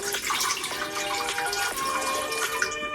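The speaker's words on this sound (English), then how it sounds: "I'm going to go in with a cup of water." A cup of water poured steadily for a smoothie, a continuous splashing liquid stream lasting the whole moment, close and moderately loud with no talking.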